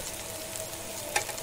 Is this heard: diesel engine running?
no